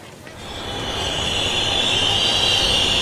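A train running on rails sets a horror-story scene, with a steady rumble that swells within the first second and then holds a loud, continuous grinding roar and a sustained high metallic whine.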